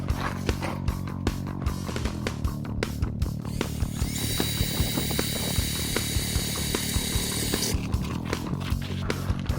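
A power drill bores pilot holes into a school bus awning, first with a 1/4 inch bit and then 3/8 inch, giving a close, sustained whine with sharp clicks and knocks scattered throughout.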